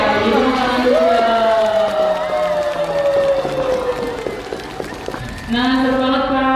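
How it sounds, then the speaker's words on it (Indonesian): Audience at a live talk event on the JKN mobile app cheers and claps loudly in a noisy crowd mix over music with sustained tones, fading slightly mid-way and swelling again near the end. "Tepuk tangan dulu dong."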